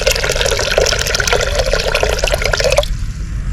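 Water is poured onto red rice in a pressure cooker in a steady, loud, gushing stream with gurgles as it fills, then stops abruptly, leaving only a quiet background.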